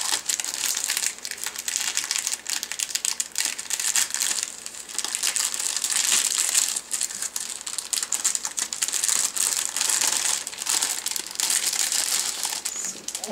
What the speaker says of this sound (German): Ich habe keine Ahnung, ich packe es einfach aus.